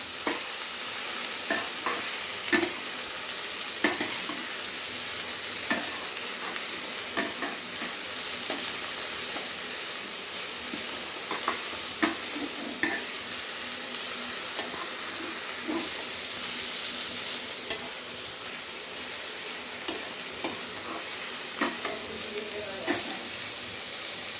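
Millet noodles stirred in a pan over steady sizzling hiss, with soft scraping and clicking strokes recurring at an irregular pace throughout; close and continuous, no talking.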